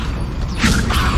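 Levioso levitation spell cast in Hogwarts Legacy, a short creaking, mechanical whoosh rising over steady game ambience in about a second.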